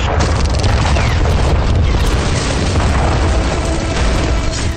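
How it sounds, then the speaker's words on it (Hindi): Israeli bombing in Rafah that reduces several buildings to rubble at once: a loud, continuous booming roar of explosion and collapse, dense and steady throughout with no clear voices. "राफा में आईडीएफ ने बमबारी की तो एक साथ कई इमारतें मलबा बन गई"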